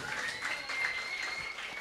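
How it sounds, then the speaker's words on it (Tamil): Faint, fairly distant clapping from a crowd of children and adults at a kids' Christmas party in a church, welcoming Christmas grandpa. It is soft but continuous for the whole moment. "நல்லா கைத்தட்டுங்களா கிறிஸ்மஸ் தாத்தாவுக்கு?"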